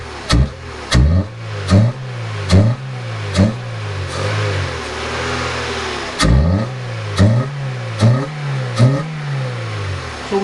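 A car engine in an automotive lab has its throttle snapped repeatedly, producing a series of sharp, loud revs that rise and fall quickly, with a longer sustained rev in the middle, close and alone.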